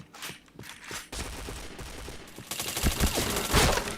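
Rapid gunfire from the Point Blank first-person shooter game, bursts of shots crackling over a busy mix of in-game footsteps and effects, growing louder and denser toward the end.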